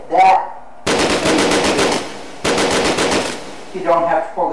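SMG gunfire in the virtual reality shooter Hot Dogs, Horseshoes and Hand Grenades: two loud, sustained full-auto bursts of rapid shots, close up, with brief pauses between.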